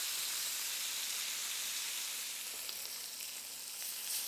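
Lamb cutlets sizzle in a hot pan for an Asian hoisin dish, a constant close hiss of frying fat with faint pops and spits scattered through it, no voices.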